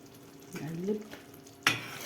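A spoon stirs thick, seasoned tomato pasta sauce in a hot pan, soft scraping under a faint sizzle, ending in a sharper clink of metal against the pan; close, no talk.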